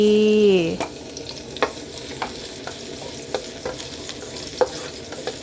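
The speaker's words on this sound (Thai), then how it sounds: "เกี่ยวกระเทียมให้หอมค่ะ" Garlic stir-frying in hot oil for canned fish with cabbage: a short tone gives way to a steady close sizzle, broken by regular clacks of a spatula against the pan.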